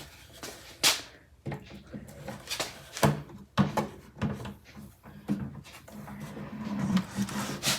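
Metal top drawer of a filing cabinet sliding and scraping, with scattered bumps, rubbing and knocks as it catches, under a person talking intermittently.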